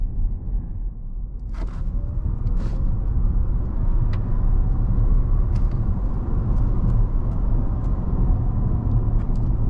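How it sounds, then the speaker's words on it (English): An electric car with instant torque accelerates hard from 25 to 60 mph, a steady loud low rumble of road and motor noise building throughout, with a few faint ticks and creaks. "mash the throttle, see how fast we can get this car up to 60"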